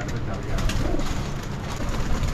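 Pigeons cooing in a rooftop loft, soft low rolling coos from several birds overlapping against a steady background hum, fairly close, with no talk.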